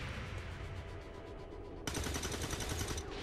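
Rapid automatic gunfire from soldiers in the turn-based strategy game XCOM 2, a steady rattling burst that grows louder and denser partway through, heard alone with no talk.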